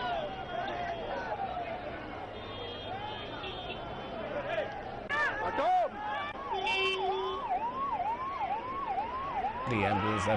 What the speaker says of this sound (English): The ambulance that will be carrying the remains of Nandamuri Harikrishna has also just arrived